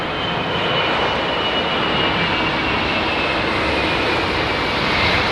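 An Airbus A380 jet lands at Heathrow in low visibility, its engines producing a loud, steady, broad roar that holds close and constant throughout.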